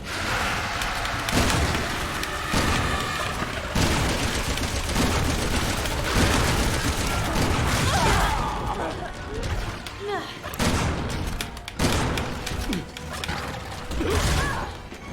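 A pump-action shotgun is racked and reloaded in the co-op video game Resident Evil 6, with clicking mechanical handling buried in a dense, loud mix of gunfire, crashes and whooshes throughout.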